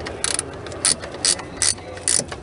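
A ratchet tightens an oil filter on a Monza car in five short, loud bursts of rapid clicking, close up with pauses between the strokes and no speech.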